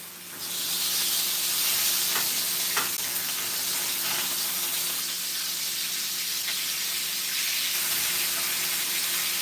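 Steak frying in a pan gives a steady, close sizzle with soft crackles and hiss throughout, no talking.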